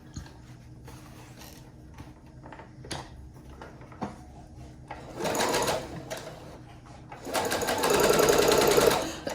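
Home sewing machine running a straight stitch on fabric pieces placed right side to right side, with short quiet bursts early on, then two louder sustained whirring runs of rapid needle clatter near the end.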